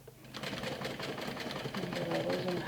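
Home sewing machine top-stitching a mini backpack, running in a fast, even mechanical chatter with a regular clicking pulse, close and continuous throughout.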